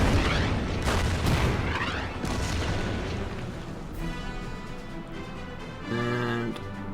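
Artillery fire in the strategy video game Order of Battle, set at the Battle of Sittang Bridge on the Burma Road: a loud booming blast that rumbles and decays into a lingering roar with smaller pops.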